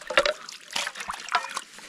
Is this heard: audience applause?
no